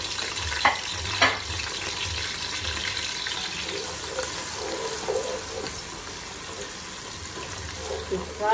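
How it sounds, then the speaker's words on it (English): Tomatoes and onions frying in a little groundnut oil for a fish stew, a steady soft sizzle with occasional stirring clatters, fairly quiet and continuous throughout. "Fry the tomato, the onions a bit, so the aroma will go into the oil."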